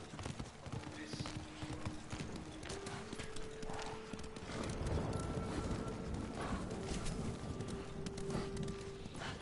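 A horse gallops in the video game Ghost of Tsushima, with fast rhythmic hoofbeats clattering continuously at moderate loudness over a faint game backdrop and a brief whinny.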